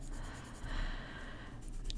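A reddish colored pencil scratches steadily across paper while coloring, a soft, close, continuous scraping texture with no talking.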